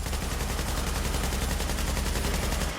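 A high-end weapon in Tom Clancy's The Division fires a rapid, unbroken automatic burst of close, loud shots for nearly three seconds, stopping abruptly at the end, with no talking.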